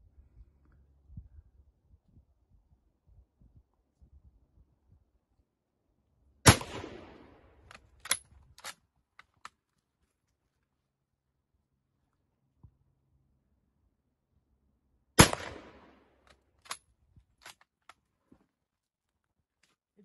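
Two sharp, loud gunshots from a 1912 Carl Gustafs Swedish sporter rifle, spaced several seconds apart, each followed by brief clicks and small clatter, with quiet low rumble and faint movement between shots.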